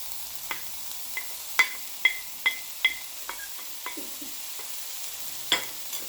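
Onions and peppers with added salt cook in a pan, giving a quiet, steady sizzle broken by about a dozen sharp stirring clicks and scrapes spaced irregularly, heard close with no talking.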